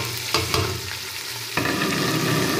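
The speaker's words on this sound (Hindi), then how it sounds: "अब हम टमाटर ऐड करेंगे और मिक्स करेंगे" Tomatoes being stirred into browned onions in a pan for chicken pulao, with a steady sizzle broken by a few scraping stir strokes, close and moderately loud with no talking.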